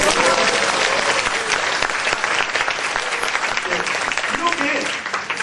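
An audience at an anniversary event breaks into sustained, dense applause, many hands clapping close and loud throughout with crowd noise mixed in.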